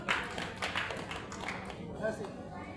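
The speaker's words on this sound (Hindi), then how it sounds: "इसके लिए भी तालियां बजा दी जाए" An audience claps in a faint, scattered patter of hand claps, with voices talking over it.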